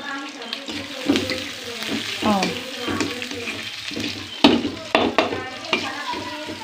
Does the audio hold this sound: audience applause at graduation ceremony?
no